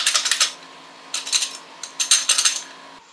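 A loose, worn shift mechanism on a Harley-Davidson Road King with toe shifter gives rapid metallic clunks and rattles in three short bursts, close and fairly loud, with brief quiet gaps between.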